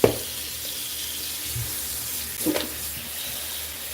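Hot water runs steadily from a tap for cleaning an oven, a close, continuous splashing rush with a couple of brief knocks.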